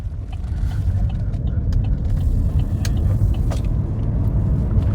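Chevrolet Volt hybrid car driving on electric power, heard from inside as a steady low road rumble with faint hum and no engine revving, a continuous even drone throughout.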